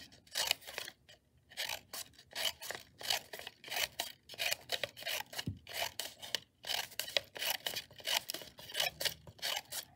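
Scissors snip through paper to cut petals for handmade paper flowers, a rapid run of crisp rasping cuts close up, each stroke separated by short pauses.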